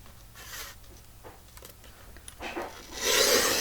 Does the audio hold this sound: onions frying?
no